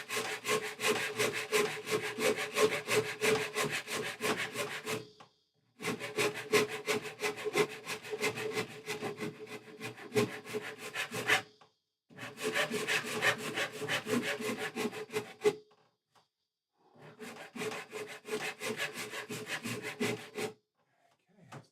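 A Shinto rasp shaves the wood of a custom guitar at a luthier's bench in four long bursts of steady, rhythmic scraping strokes, separated by short pauses.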